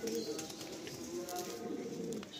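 A Madrasi pigeon, a high-flying breed with dark bluish plumage, coos softly and repeatedly at close range against a steady low background hum.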